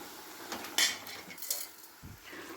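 Chilli and coriander powder with salt roast in a pan as a metal spoon scrapes and clinks against it in a few quick strokes, close and fairly quiet, with no talking.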